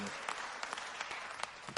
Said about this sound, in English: Give him a round of applause, Tony.